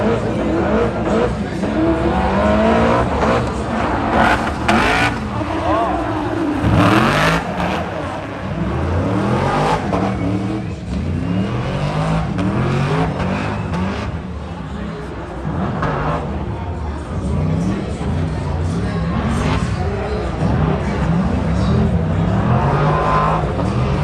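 A BMW E30 race car with an LS3 V8 accelerates hard with rising engine pitch and tire noise, continuing for a long stretch beneath a commentator talking over it.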